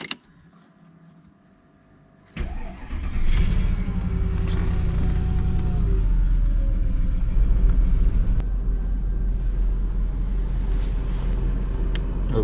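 A 2000 Mercedes-Benz W220 S-Class with the 5.0-litre M113 V8 fires up after about two seconds of quiet, then settles into a loud, steady, deep idle rumble that holds to the end.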